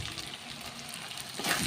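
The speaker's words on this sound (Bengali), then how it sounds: "আমি মশলার সাথে ডাউলটাকে ভালোভাবে নেড়ে চেড়ে নিচ্ছি।" Moong dal being stirred and fried with spices in a pan, a steady close sizzle with faint scraping throughout, slightly louder toward the end.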